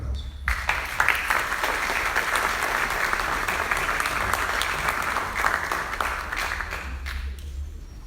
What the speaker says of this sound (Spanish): Vaya para él un fuerte aplauso.